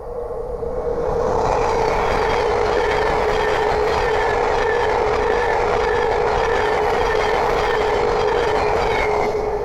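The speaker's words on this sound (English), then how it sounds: "we have another Thameslink 700 coming through" Thameslink Class 700 electric train passing on the East Coast Main Line at Great Wymondley, a loud continuous rushing roar with steady wheel and rail noise sustained throughout, close by.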